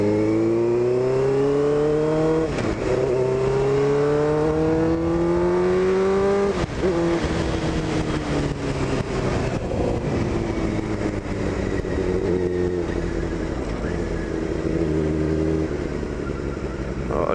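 A motorcycle rides on roads at night, its engine loud and close throughout, with repeated rising revs as it goes through the gears and some eases off between accelerations.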